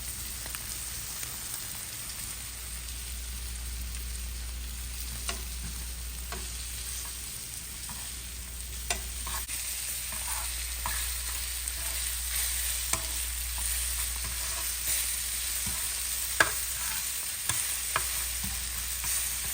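Fish frying in olive oil in a pan for tacos, a continuous crackling sizzle with scattered sharper pops and spits, steady and close, under a low background hum and with no talking.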